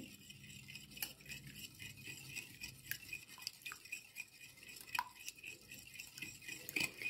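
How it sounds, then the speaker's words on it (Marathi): Cake batter whisked steadily in one direction in a bowl, with a busy, continuous scraping and light clinking of the whisk against the bowl. "फेटताना हे कायम एकाच डिरेक्शन मध्ये ठेवायचं"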